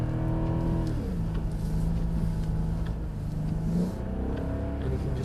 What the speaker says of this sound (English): And you can just hold it like that in a drift